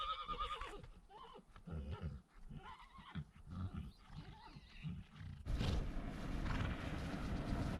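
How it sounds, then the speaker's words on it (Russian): Free-roaming horses grazing in Yakutia whinny and neigh in a series of calls, fairly near and loud, with a louder, noisier outdoor stretch toward the end. "это чьи-то лошади, они просто ходят, пасутся где хотят"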